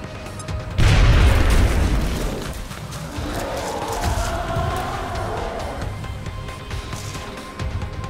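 A grenade goes off in the video game XCOM: Enemy Within, one heavy boom with a loud low burst that rolls into a long rumbling tail and settles into a steady background din.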